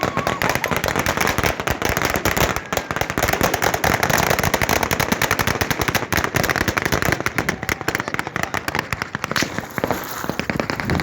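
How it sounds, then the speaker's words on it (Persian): Guards firing weapons at people in Sistan and Baluchestan: a loud, dense burst of rapid cracking shots, almost continuous rattling like automatic gunfire or firecrackers, running for several seconds with no voices. "پاسداران که وسط بس سلاح میکشن به مردم شلیک میکنن"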